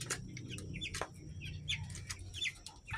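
Broiler chickens clucking and chirping in a busy flock, repeated short calls overlapping over a steady low hum, fairly close.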